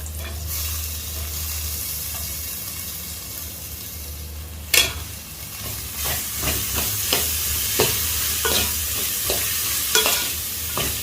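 Chopped green apple pickle stirred in a hot pan, a steady sizzle broken by a sharp scrape and then a run of quick spoon clicks and scrapes, close up with no talk.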